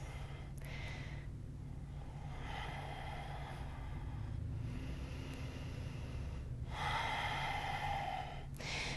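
Slow, deep breathing during a yoga session: two long, soft inhale-exhale cycles, each a broad airy swell of breath noise, heard close over a steady low background hum.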